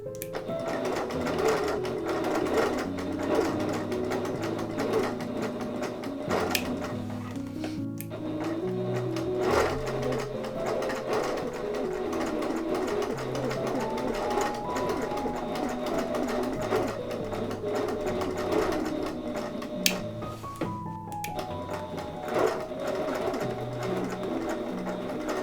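A sewing machine stitches in the ditch along the seam of a quilt, running steadily and close for the whole stretch. The motor whirs in a continuous drone, with a slight pause near the end and no talking.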